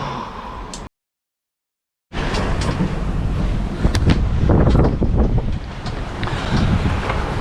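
Strong wind roaring across the microphone aboard a sailboat at sea, loud and continuous with gusty surges, broken by a brief dropout near the start, no talking.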